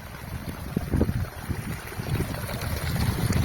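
Natural hot spring water flows at Panamik in Ladakh, making a soft, uneven gurgling and splashing with light wind noise on the microphone, moderately close and unaccompanied by speech.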